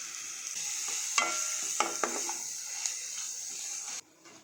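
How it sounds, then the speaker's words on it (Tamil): Mashed potato for a spicy crispy snack stuffing is sautéed and stirred in a pan, with a steady hiss of frying under repeated scraping strokes of a spoon, close and clear, ending in a sudden drop to quiet. "இப்போ இதையும் நம்ம வதக்கிறது கூடயே சேர்த்து வதக்கி விட்டுடலாம்."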